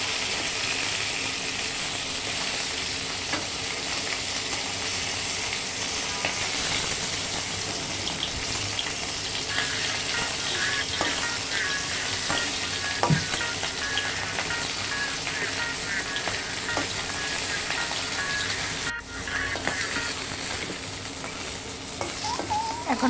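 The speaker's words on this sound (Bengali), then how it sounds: "সবগুলো মাছই আমি উল্টে পাল্টে ভেজে নেব। সুন্দর করে ভেজে নিতে হবে।" Fish fry in hot oil in a pan, turned over now and then as pieces for a rice dish cook. A dense, steady crackling sizzle carries on without a break for the whole stretch, close and loud, with no talking.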